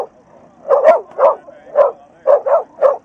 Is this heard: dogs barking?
yes